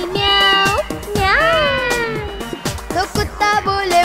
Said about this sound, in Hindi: बिल्ली करती म्याओ